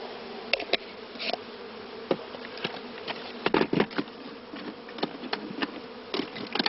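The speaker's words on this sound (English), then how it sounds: "A sample of bees is removed and is later weighed in the laboratory" Honeybees buzzing close by as a sample is taken from a hive for weighing, a steady droning hum broken by frequent sharp clicks and taps of bees striking a container.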